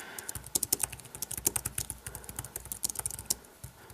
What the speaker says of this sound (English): So let's go ahead and type